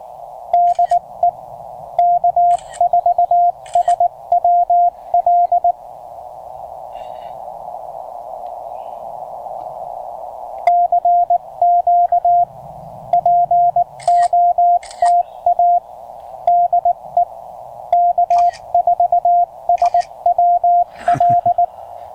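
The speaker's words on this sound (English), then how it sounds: "this is the other great thing about having a CW message memory keying" Morse code sidetone from a Penntek TR-35 memory keyer played in a park, a steady pitched tone keyed in clean rhythmic dots and dashes, loud and close, in two long bursts separated by a pause with a faint carrier-like hum.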